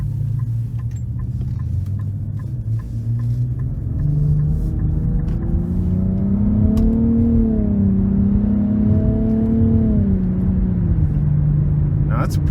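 A 2023 Nissan Rogue Platinum accelerating hard in sport mode out of a corner, its engine note rising steadily in pitch and holding loud and close from inside the cabin, with road rumble beneath.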